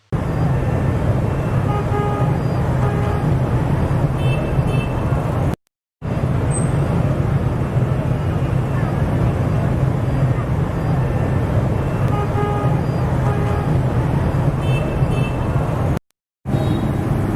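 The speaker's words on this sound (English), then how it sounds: "Look at this activity of traffic in downtown Hanoi." Busy street traffic with mopeds in the old quarter of Hanoi, a steady loud roar of engines with scattered horn toots, broken by two brief cuts.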